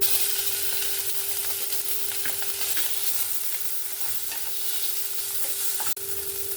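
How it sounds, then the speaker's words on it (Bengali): Prawns frying in oil in a kadai with salt and a little turmeric, giving a steady, close sizzle with occasional stirring clicks throughout and a brief bump near the end. "কড়াইতে দিয়ে দিচ্ছি একটু লবণ আর সামান্য পরিমাণে একটু হলুদ দিয়ে আমি চিংড়ি মাছগুলোকে"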